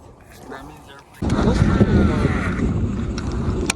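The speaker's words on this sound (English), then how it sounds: "That's just the wind, bro." Wind roars across a moving fishing boat out on the water during a thunderstorm, a loud, steady broadband rush that surges in abruptly and stays strong, with the boat's motion and water noise underneath.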